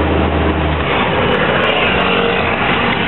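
Truck engine acting up on a road trip from Cali to Popayan, Colombia, a loud, rough, continuous rumble and drone heard from inside the vehicle, with a deeper low throb in the first second.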